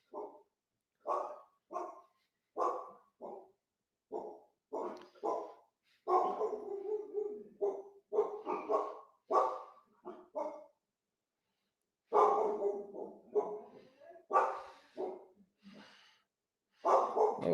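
A dog barks repeatedly nearby in irregular bursts of sharp barks and yips, separated by short pauses, with a longer silent gap midway before the barking resumes.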